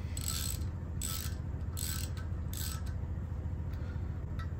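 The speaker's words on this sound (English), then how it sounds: "I like to put a little more on the torque wrench when I'm torquing something" A ratchet torque wrench clicks in short bursts while tightening bolts on new wheels for a 2013 Harley Softail, giving four quick ratcheting runs followed by a few faint ticks over a steady background hum.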